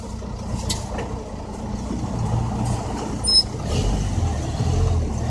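Cat C10 dump truck with a Jake brake, a rough low engine rumble that keeps rising and falling, with a short sharp hiss of air partway through, all close to the microphone and with no talk.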